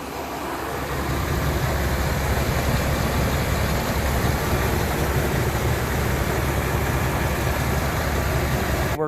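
A 2002 Dodge 1500 pickup's 5.2 L V8 idles after a fresh AMSOIL oil change, a loud, steady, even rumble that holds close and unchanging throughout, with no talking.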